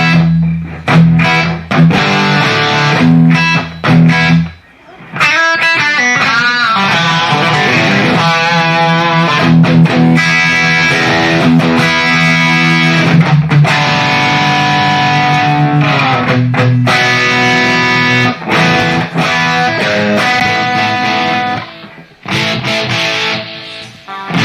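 A distorted electric guitar through an EVH amp's green channel, everything turned all the way up, plays loud, sustained chords and riffs continuously, with brief pauses, thick and saturated throughout.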